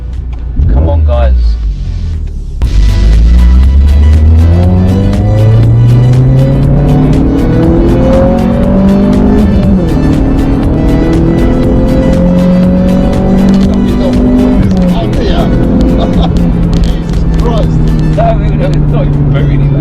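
A Volkswagen Lupo GTi engine revs hard while driving, loud and close, its pitch climbing and dropping through gear changes, with people talking over the rising engine note.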